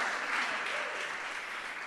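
Church congregation clapping together during a lively Spanish-language worship service, a dense, steady wash of applause with no gaps.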